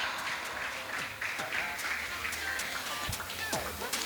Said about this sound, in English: Let's give a round of applause for him one more time.